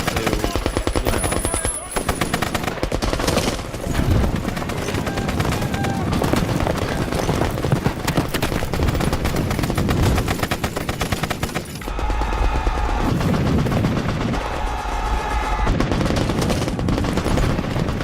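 Rapid machine gun bursts and explosions fill a World War I battle scene in a movie, loud and continuous, with crashing booms and a shift to heavier blasts near the end.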